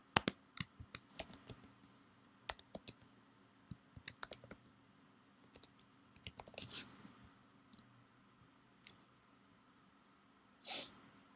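Computer keyboard being typed on to enter a domain, a quiet, irregular run of close, crisp key clicks with brief pauses, ending in a louder burst of clacking.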